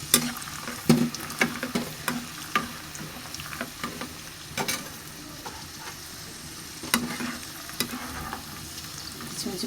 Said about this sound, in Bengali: এখন কিশমিশগুলো হালকা করে ভেজে নেব।